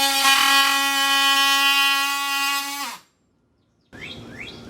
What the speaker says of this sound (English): With our rot identified and our jambs marked, you're now ready to cut. I prefer the use of an oscillating multi-tool